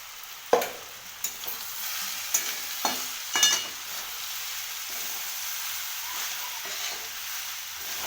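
A spatula stirs rice being fried in a pan for Bengali bhaat bhaja, scraping in a few distinct strokes over a steady soft sizzle, close up, with no talking.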